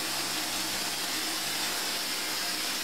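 A Rustoleum Tub and Tile polyurethane aerosol can sprays over a bathtub, giving a continuous, close, steady hiss with no break for several seconds.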